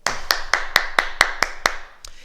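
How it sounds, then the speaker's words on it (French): Claps from a class applauding itself, heard as a sparse, evenly spaced series of about nine sharp, close hand claps over two seconds. "Oui, on s'applaudit, bravo."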